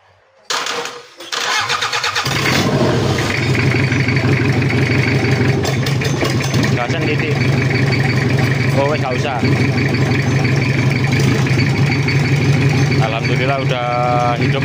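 A Toyota Kijang diesel engine with a cracked block and a welded-over oil passage cranks briefly, catches and settles into a loud, steady idle with a throbbing, clattering diesel rumble that lasts to the end.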